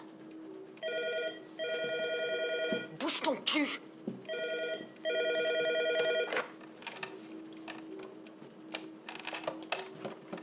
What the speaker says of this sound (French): Décroche ce putain de téléphone.